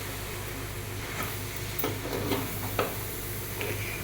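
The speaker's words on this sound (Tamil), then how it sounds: "அது கோஸ் நல்லா வதங்குற அளவுக்கு வதக்கி விட வேண்டியது தான்" Cabbage and other vegetables sauté in a pan for pasta, with a soft continuous sizzle and intermittent spatula scrapes and taps.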